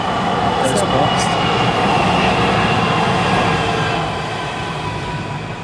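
A tram rolls past on a street in Alicante, Spain, a steady broadband rumble with a faint high squeal that holds loud and close for several seconds before easing off slightly.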